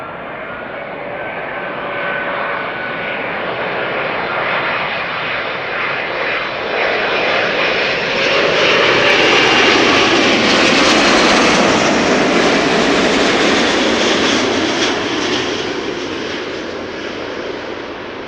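A large airliner arriving on Kaagbaan runway 06 at Amsterdam Schiphol, a loud broad jet roar that swells as it passes close overhead, peaks midway and slowly fades, with no voices.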